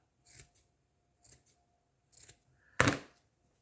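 Scissors snip through yarn while a pompom is being made, giving four crisp cuts spaced about a second apart, the last one loudest, close up in a quiet room.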